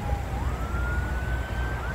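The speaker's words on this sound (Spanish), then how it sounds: "Allá viene la ambulancia." An ambulance siren wails in a steady rising and falling tone at the scene of a traffic accident, loud and continuous over a low background rumble, with no talk.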